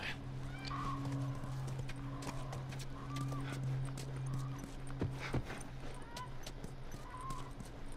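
Horse in The Last of Us Remastered video game, with steady clip-clop hoofbeats and occasional snorts over a constant low ambient hum, sharp louder clacks near the middle, moderately quiet overall.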